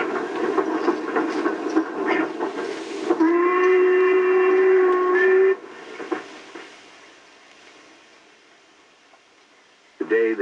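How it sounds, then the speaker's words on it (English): A narrow-gauge steam train in Wales chugs with a long, loud steam whistle blast sounding over it, then the rumble fades before a brief whistle returns at the end. "These splendid little trains still chug their way along 10 different narrow-gauge lines."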